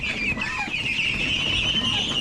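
Ducks on a farm, many at once, quack and chatter in a continuous dense clamor while they are being moved, close and steady throughout.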